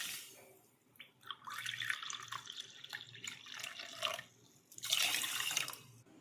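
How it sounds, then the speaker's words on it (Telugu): Water runs from a tap and splashes in bursts onto sugar in a vessel while gulab jamun syrup is prepared in a kitchen, with a louder gush near the end and no talk. "4 కప్పుల చక్కెరకి 8 కప్పులు వాటర్ని వేసుకోవాలి."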